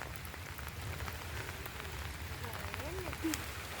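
Rain falling in a garden plot readied for planting vegetables: a soft, even patter that stays faint throughout, with a few brief higher chirps near the end.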